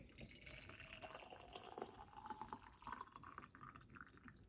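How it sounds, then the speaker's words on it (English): Hot water poured from a kettle into a glass jar, a soft continuous splashing and trickling with faint bubbling, fairly quiet and steady throughout. "we just pour the water into the jar"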